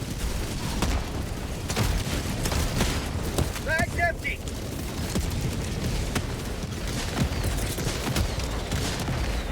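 Helldivers 2 gunfire and cannon blasts in a battle against Automatons: repeated sharp shots and booms over a constant rumbling din, with people talking throughout.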